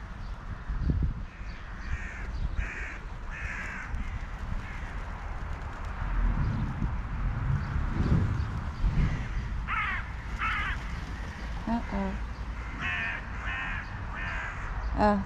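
Crows cawing outdoors on a rainy spring day, repeated harsh caws in short bursts at moderate distance, spread across the span over steady rain and ambient background noise.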